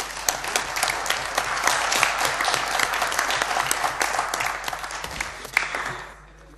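Applause from a departmental assembly in Oise, France, a steady patter of many hands clapping in a hall that holds for several seconds, then fades quickly toward the end.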